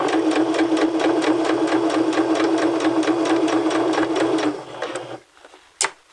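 A sewing machine stitches fabric slowly around a curve, its needle pounding in a steady, close, loud rhythm for about five seconds before stopping, followed by a short click.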